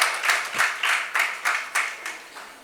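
A small audience at a French talk-show event claps in a string of about eight sharp, fairly evenly spaced bursts, each swelling and fading quickly, with no voices over it.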